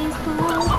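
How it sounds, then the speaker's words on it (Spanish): Chickens clucking in the Slime Rancher video game, short close clucks over a busy layer of game sounds, brief and moderately loud. "Mira, nos llevamos las gallinas."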